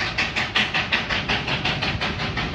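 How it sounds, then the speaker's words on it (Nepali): The Darjeeling toy train rolls past during tourist season, a steady rhythmic chugging with regular pulses at close range and no talking. "अब हेर्नु न गाडी दार्जिलिङ टोय ट्रेन"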